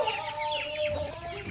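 A hen sitting on eggs clucks in a repeated, close series of soft calls, with no talk.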